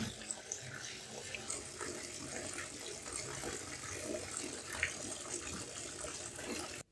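Water from a tap runs steadily into a bathtub to submerge a Samsung XCover Pro phone, a continuous hissing splash heard close up for several seconds before cutting off.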